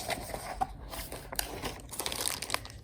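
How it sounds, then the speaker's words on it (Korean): Plastic and paper packaging crinkles and crunches steadily while a delivered parcel holding a Logitech keyboard is unboxed indoors, with close, busy rustling and small tearing sounds throughout and no talking. "택배 언박싱을 한번 해보려고 합니다."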